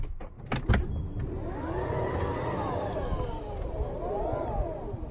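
Tesla Model X falcon wing doors moving with a smooth rising and falling electric motor whine, preceded by a few sharp clicks and latch thuds, close up and fairly loud.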